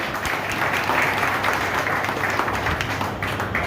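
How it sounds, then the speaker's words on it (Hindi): Loud, dense applause from a crowd at an outdoor Jan Suraaj Party political rally in India, with steady, even clapping filling the whole stretch. "एक जोरदार तालियां होनी चाहिए"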